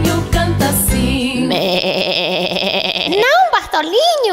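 A voice imitates a sheep, giving a wavering nasal bleat with strong vibrato that swoops up and down, loud and close, followed by a couple of higher sliding vocal calls, with music underneath.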